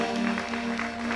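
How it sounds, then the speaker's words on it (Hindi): Brief, steady clapping from an audience at a Jain Panchkalyanak Pratishtha festival ceremony at a temple, heard at moderate level over a sustained tonal drone. "जोरदार तालियां बजाएं।"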